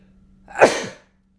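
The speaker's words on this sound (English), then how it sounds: "I'm going to sneeze" A single close, sharp human sneeze from a woman indoors, a quick intake rising into one loud burst that cuts off into silence.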